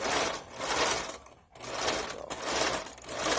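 A sewing machine runs a zigzag stitch along the cut end of fabric while a too-tight top is resized: two fast, close, whirring bursts of stitching separated by a brief pause, with no talking.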